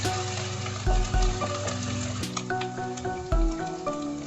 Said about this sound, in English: Add chili and garlic paste and fry on medium flame for 3 minutes